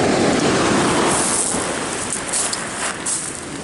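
Steady rain falls on a North Coast California beach, a dense, loud, continuous hiss blended with distant surf, with no voices.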